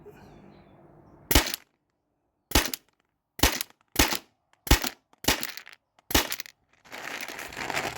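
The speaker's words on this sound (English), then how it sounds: "I'll like fire a shot every second, and I'm just gonna have the chronograph like right here." Byrna TCR launcher, modified with a remote line and hopper, firing seven sharp cracking shots about a second apart, loud and close, with quiet gaps between them and a faint background hiss at the start and end.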